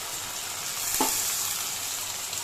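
Bitter gourd and papaya fry in a mustard and ginger paste, giving a steady close sizzle throughout with one brief stir or clatter near the middle and no talking.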